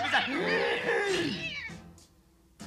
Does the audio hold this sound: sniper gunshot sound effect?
no